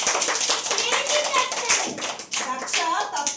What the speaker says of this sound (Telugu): Give good clap to Daksha.